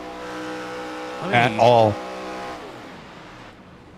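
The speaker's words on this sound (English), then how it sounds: "he's clutching in. Because those RPMs are going right back down to idle" A race car engine at Las Vegas Motor Speedway, an XSLR race, briefly rises in a revving burst and then drops off as the clutch goes in, falling back toward a low idle. Broadcast commentary is heard under and around it.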